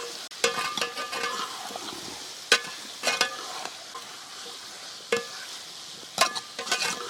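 Peeled yellow pumpkin and tomato stirred and fried in a pan for a village-style pumpkin curry, with repeated scraping stirs and clinks over a steady sizzle, close and moderately loud.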